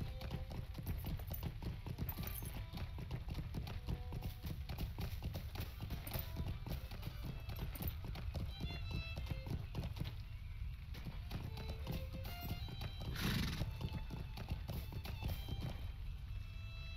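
Horse hoofbeats clip-clopping steadily in a fast rhythm while riding in the video game Lord of the Rings Online, close and continuous with faint game ambience, a few quiet spoken words over it.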